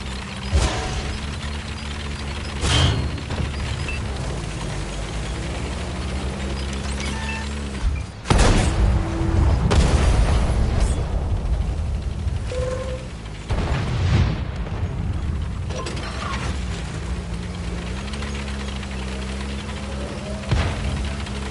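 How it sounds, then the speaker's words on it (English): Artillery shells landing in a World of Tanks console battle, several heavy booms and blasts scattered over a low engine rumble and mechanical clatter, some near and loud, others more distant. "Oh, it's never ending artillery."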